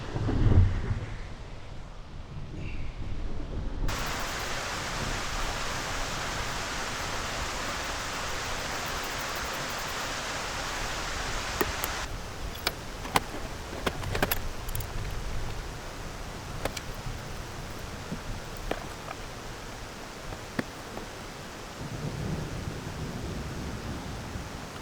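A huge thunderstorm over Mount Lassen fills the air with a steady, dense wash of rumbling, rain-like noise, with a few sharper crackles breaking through midway and no voices.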